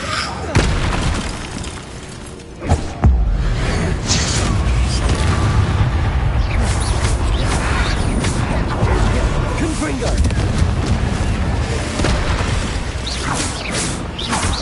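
Confringo fire spell in Hogwarts Legacy, a loud, dense booming blast with a sharp hit near the start and rumbling fiery roar throughout, mixed with a voice.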